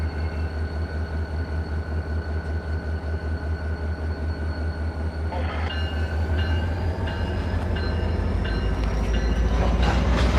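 A train rolls past with rhythmic clickety-clack over the rails, growing louder with squealing metallic tones toward the end.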